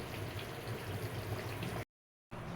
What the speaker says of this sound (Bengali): মাছগুলো কাঁচা ভালো করে ফুটাতে হবে যাতে সেদ্ধ হয়ে যায় মাছগুলো